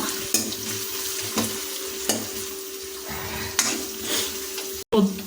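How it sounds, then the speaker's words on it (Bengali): Chopped onion fries in hot oil for a chicken-skin ghugni, a constant bright sizzle with a low hum beneath and a utensil knocking against the pan every second or so as it is stirred. "যেহেতু আমরা এই গরম তেলের উপরে কোচানো পেঁয়াজ দিয়েছি তাই এটাকে খুব ভালোক্ষণ কিছুক্ষণ নাড়িয়ে নেব"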